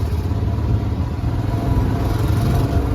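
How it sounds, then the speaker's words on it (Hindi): A loud, steady motorcycle engine drones and rumbles up close as the bike pushes past a line of stopped traffic on a foggy road toward Kedarnath. "हमारी बाइक जो है दंदनाट करती निकल रही है"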